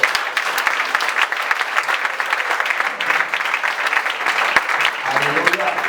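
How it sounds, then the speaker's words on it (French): A church congregation applauds and cheers for the Lord, continuous dense clapping and crowd noise filling the room at a loud, even level, with voices mixed in. "Est-ce que tu peux acclamer pour le Seigneur?"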